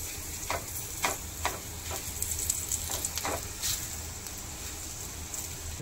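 A paratha fries in oil on a pan, crackling with a soft, steady sizzle, broken by several light scraping and stirring ticks nearby.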